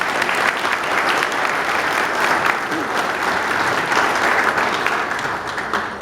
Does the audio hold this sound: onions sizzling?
no